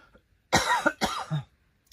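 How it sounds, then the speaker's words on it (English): Two harsh coughs from a person who breathed dust while working soil in a winter greenhouse, close and loud, with a brief throat-clearing sound trailing after. "Gonna be coughing for a while."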